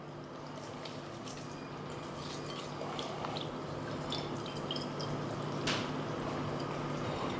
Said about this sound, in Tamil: இப்போ நான் அரிசியை போட போகிறேன்.